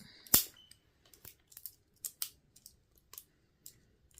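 Paint packaging being cut open with a sharp tool: one loud snip followed by several fainter, irregular clicks and cuts, close up with no talking.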